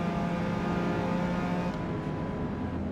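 A Nissan GTR in the Forza Motorsport 8 racing game, its engine droning steadily and loudly as it accelerates out of a right-hand corner, with no voices.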